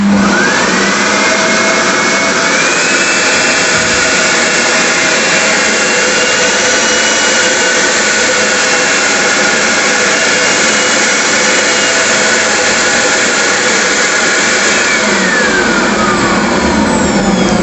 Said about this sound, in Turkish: Makinamız çalıştı.